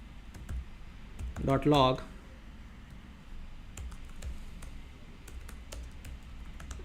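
JavaScript code typed on a computer keyboard, scattered sharp key clicks spread through the clip, with a brief burst of talking near the start.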